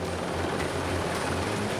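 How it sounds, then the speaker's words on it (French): A helicopter flies over equatorial forest in French Guiana during a gendarmerie commando operation, its rotor and engine making a loud, steady, close droning roar with no pauses. "Pour les surprendre, les gendarmes mènent des opérations commando en hélicoptère."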